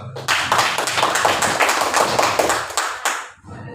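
Students in a classroom clap together for about three seconds, a steady burst of close, brisk hand claps that cuts off abruptly near the end.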